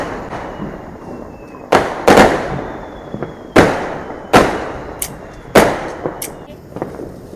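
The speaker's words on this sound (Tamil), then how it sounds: "ஸ்கை ஷாட்ஸ் எல்லாம் வைக்க போகிறோம்." Sky shot fireworks burst at a Diwali celebration, about six sharp loud bangs landing at irregular intervals, each followed by a crackling tail, with a faint hiss and background murmur between blasts.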